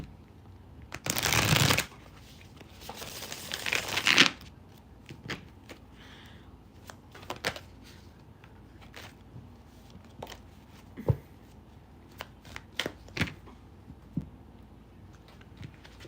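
Tarot cards are riffled in two loud shuffling bursts, then scattered soft taps and clicks follow as they are handled quietly up close.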